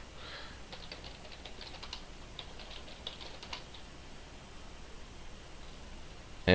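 Quiet, irregular keystrokes on a computer keyboard as a new password is typed, the short clicks bunching in quick runs over a faint steady hiss, then tapering off into near silence.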